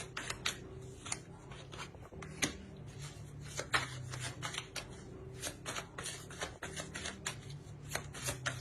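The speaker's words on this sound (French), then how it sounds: "On va rajouter une carte." Tarot cards shuffled by hand, a quiet run of crisp riffling flutters and soft taps repeating in quick bursts, close and alone.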